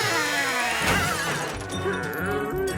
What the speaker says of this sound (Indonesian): Dan akhirnya kepala robot itu pecah.